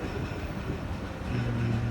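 The 12 Down Hazara Express runs through Multan near the Lakkar Mandi level crossing toward Multan Cantt station, giving a steady, faint low rumble of rolling rail cars that grows slightly louder and heavier in the second half.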